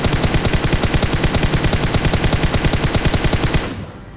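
Rapid automatic gunfire from PUBG Mobile, a steady stream of loud, close shots in a fast regular rhythm for about three and a half seconds, then cutting off into quieter background ambience.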